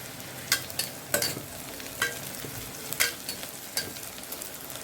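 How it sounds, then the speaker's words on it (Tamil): Onions sauté with salt in a pan for mutton biryani, a soft sizzle beneath a handful of sharp spatula scrapes and stirs spaced irregularly, close and fairly quiet. "வெங்காயம் சீக்கிரம் வணங்கணும்னா லைட்டாக 2 உப்பு கிள்ளு போட்டோம்னா சீக்கிரமாக வணங்கிடுங்க"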